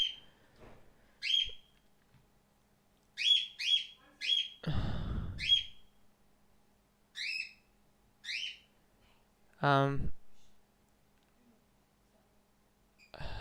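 A pet bird indoors gives repeated bright chirps and whistles in short bursts separated by quiet gaps, close and clear, with one harsher squawk and a rising whistled call later on.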